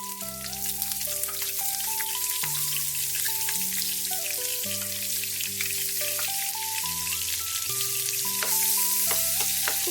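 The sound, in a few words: capsicum frying in refined oil with salt and turmeric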